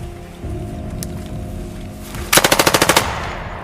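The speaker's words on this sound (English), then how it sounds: "except for occasional machine gun fire." A short burst of machine gun fire rattles out as a rapid run of about ten loud shots over a low, steady rumble during a special forces selection exercise in a tunnel.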